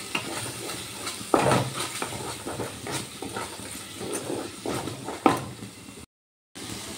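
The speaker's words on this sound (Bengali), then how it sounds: "আদা বাটাটা ভালো করে আমি এই মশলার সাথে কষিয়ে নেব।" Ginger paste is stir-fried with ground spices in a hot pan for a prawn curry. Steady sizzling runs under repeated scraping strokes of a spatula, with a couple of sharper clatters against the pan and no talking.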